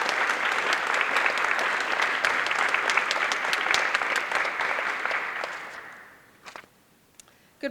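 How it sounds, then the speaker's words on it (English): Loud, sustained applause from an audience at a ceremony honoring decorated guests, with crisp individual claps, gradually dying out to a few scattered claps near the end. "Let's give a round of applause to Mike Brooks from the Hamilton County Sher"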